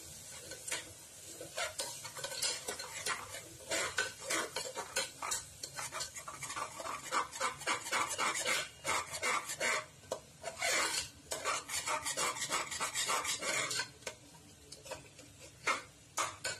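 Yogurt being stirred into mushroom biryani in a pot, heard as a steady run of close scraping and rasping spoon strokes against the pot, with light clinks of metal throughout and no talking.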